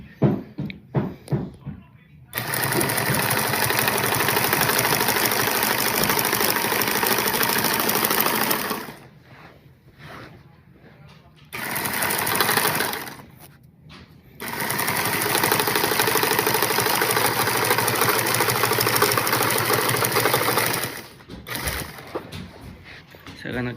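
An industrial carpet binding machine sews binding tape along the edge of a hard berber carpet for stairs, running in long steady mechanical bursts separated by short pauses, loud and close.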